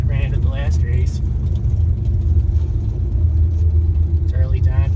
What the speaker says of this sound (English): So we're starting to send cars down the track.